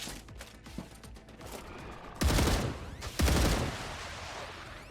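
Gunfire in the survival game Star Rupture: dense, loud bursts of rapid weapon fire over a mechanical, clattering background, with two heavy volleys standing out near the end.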